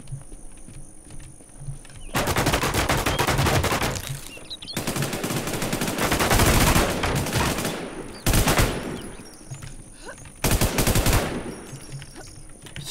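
Gunfire in the video game Infestation comes in several loud automatic bursts of a few seconds each, separated by quieter gaps, close and rapid-fire.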